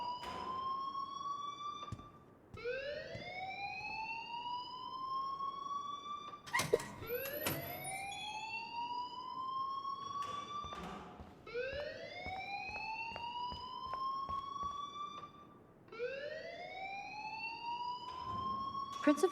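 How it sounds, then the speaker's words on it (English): An alarm in the video game Life is Strange sounds a rising electronic whoop that repeats about every four to five seconds in a steady loop, with faint clicks between the cycles. "please turn off that alarm since that's your job"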